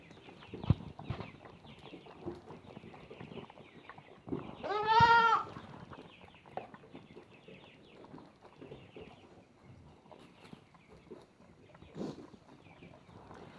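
Lambs being bottle fed on a farm, one clear nearby bleat standing out amid soft shuffling, sucking and background farm noise.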